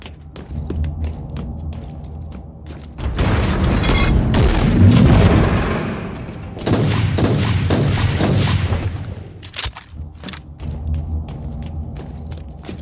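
Gunshots fire in a Warhammer video game, heavy booming blasts and rolling reports in two long loud bursts, with quieter scattered thumps between them and no voices.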